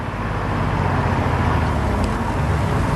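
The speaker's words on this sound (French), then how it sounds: "Quelle est cette voiture?" A car engine and tyres give a steady, close, low rumbling drone that stays loud and even throughout, with no talking over it.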